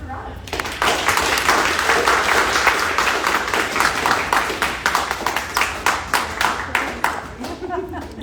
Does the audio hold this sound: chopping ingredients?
no